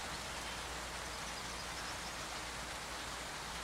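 Rain falls on an eagles' nest where two eagles sit, a broad, steady hiss of dense drops, unbroken and fairly loud, with no voices.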